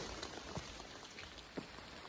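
Steady light rain patters on a hiking trail along the Appalachian Trail, a soft continuous hiss of drops with a few slightly louder taps, fairly quiet and close, with no voices.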